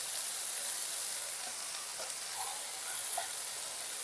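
Moringa flower curry sizzling and frying in a pan while being stirred, a steady bright hiss with faint scraping of the spoon throughout.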